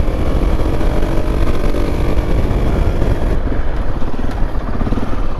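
A KTM 690 Enduro R single-cylinder motorcycle engine runs steadily, loud and close, with a continuous rough drone and no talking.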